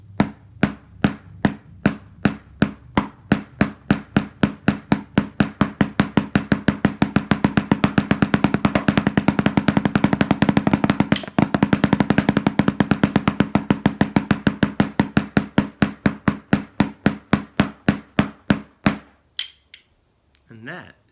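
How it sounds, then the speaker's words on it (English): Drum paradiddle rudiment struck as a long run of sharp, close hits that starts spaced, speeds into a fast, even roll, then slows and stops; no voice. "And that is a paradiddle."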